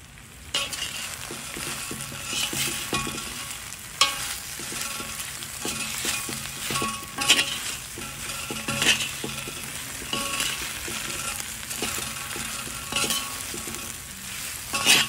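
Shrimp seasoned with salt and pepper sizzles loudly while being stir-fried and tossed in a hot pan, a steady frying hiss broken by repeated scraping stirs and occasional clinks, with no talking.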